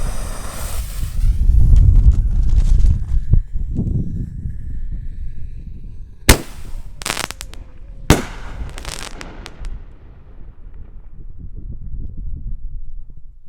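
A Snake Bite Fireworks gold artillery shell fires from its tube with a sharp thump, then bursts in two loud cracks followed by crackling outdoors, with wind rumble throughout.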